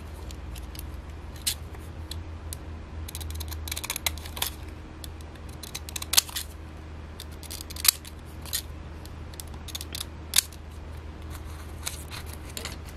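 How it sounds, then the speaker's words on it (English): Small craft scissors snip through paper in short, crisp cuts, scattered and irregular across the stretch, close up with a faint steady hum underneath and no talking. "These my cute little scissors."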